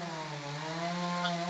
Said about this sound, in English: They are sawing through just very thick branches.